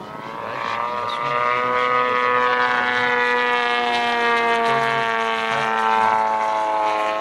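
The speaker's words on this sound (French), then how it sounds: "Voilà, donc l'avion tourne quasiment sur place." Propeller engine of a radio-controlled model airplane doing aerobatics at a model aviation meeting, a steady loud buzzing drone with rich harmonics that holds for the whole stretch, pitch shifting slightly as the plane turns.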